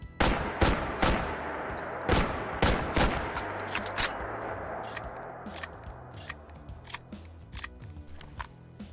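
A Remington Model 11 shotgun in Fallout 4 fires a series of sharp, loud blasts with uneven gaps, mixed with the metallic clicks and clatter of reloading shells. The shots grow sparser toward the end.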